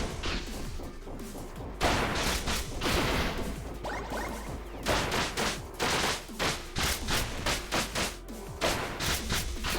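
Rapid bursts of enemy gunfire crackle through fast action in the platformer Spark the Electric Jester, mixed with whooshing swipes and crashing impacts in a dense, loud stretch with no talking.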